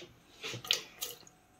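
A short splash of tap water in a kitchen, a few quick bursts of running and trickling water, faint and close, with quiet room tone around it.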